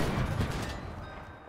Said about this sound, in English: I think this cannon and I get along well.